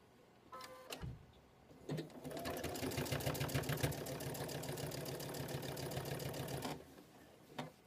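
A sewing machine stitches quilt binding a quarter inch from the edge, a few clicks first, then a steady close whirring run of about five seconds before stopping.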